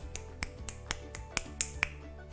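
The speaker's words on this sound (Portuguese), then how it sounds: "tem os estalos de dedos." Finger snaps during a body-percussion music lesson, about eight crisp, separate snaps spaced unevenly over a couple of seconds, close and fairly quiet, with no talk over them.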